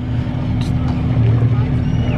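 A low, steady boat engine drone on a canal with an uneven, rough pulse, as if faulty, runs throughout, close by, with faint background voices.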